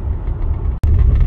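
A non-4x4 car rolls along an unpaved forest road in Olympic National Forest, with a steady, loud low engine rumble and road noise filling the interior, broken by one brief dropout.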